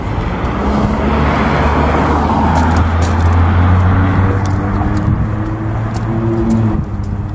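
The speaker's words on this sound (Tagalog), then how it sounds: "Hintayin ko lang yung isang kotse." A car passes close by on a street in hot weather, a loud rising and fading engine and tyre rush with low droning tones, heard alone without talk.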